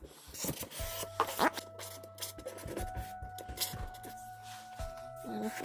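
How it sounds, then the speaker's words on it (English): A Sharpie marker scratches and rubs across foam in short strokes, close and fairly quiet, with faint tonal hums and small background noises between strokes. "I need to use the Sharpie to mark out where I want to cut certain things."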